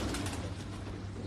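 Pigeons on a Karachi rooftop, kept by a fancier, give a steady low cooing murmur under broadband rooftop noise throughout, with no talk.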